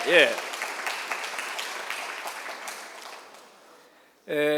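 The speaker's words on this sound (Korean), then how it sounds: "박수 한번 좀 보내주십시오." Audience applause at a forum, a broad wash of clapping that swells right after a spoken line and fades out over a few seconds, with a voice resuming loudly at the end.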